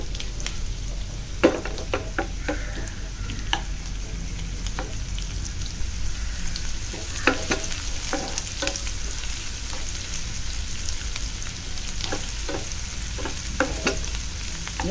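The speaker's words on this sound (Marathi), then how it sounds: "कांदा, छान परतवून घेऊया।" Onions sautéing in a pan for stuffed brinjal over medium to high gas, a steady loud sizzle with frequent spatula scrapes and clinks at an irregular rhythm, no voices.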